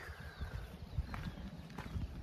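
A horse walks with low, soft hoof thuds in an uneven clip-clop rhythm, close and fairly quiet.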